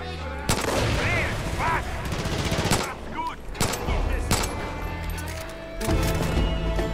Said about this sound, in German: Okay, also Schüsse.